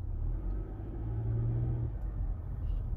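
Low, muffled engine rumble from inside a 2022 Mitsubishi Outlander as it pulls away in drive, steady and quiet with a brief hum from the drivetrain.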